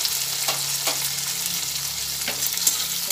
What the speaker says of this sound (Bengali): আবার ভালোভাবে একসঙ্গে ভেজে নিচ্ছি।